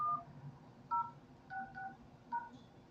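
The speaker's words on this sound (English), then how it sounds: "I'm going to dial the phone number, put my PIN number in" Telephone keypad tones dial a PIN into a voicemail line, a handful of short, clean beeps spaced unevenly over a quiet background, each tone brief and distinct.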